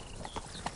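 A brief couple of hoofbeats from Roach, Geralt's horse in The Witcher 3: Wild Hunt, land as soft, quick clip-clops in a quiet game scene.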